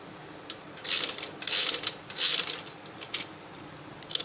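Sewing machine stitching across small pleats on fabric, several short bursts of rapid mechanical whirring separated by brief pauses, close and moderately loud with no talk.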